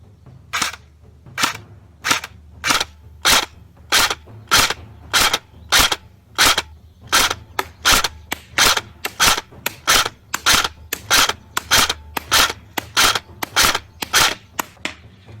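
Single shots from a CYMA CM032A M14 SOCOM airsoft electric gun fired one at a time in a steady, evenly spaced rhythm, each a sharp crisp crack over a low constant hum, with no voices.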